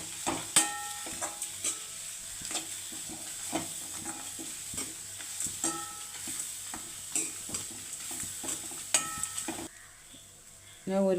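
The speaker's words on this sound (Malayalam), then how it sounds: "ഇനി നമുക്ക് ഗ്യാസ് കത്തിച്ച് നന്നായിട്ട് ഇതിനെ വറുത്തെടുക്കണേ." Ingredients are roasted in a pan on a gas stove for a Kerala prawn theeyal, with a soft steady sizzle under frequent sharp scrapes and taps of a spoon stirring against the pan, then a brief quieter pause at the end.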